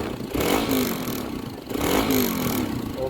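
A small motorcycle engine idling and revving up close on a hilltop, rising and falling in two surges with mechanical clatter, no talk over it.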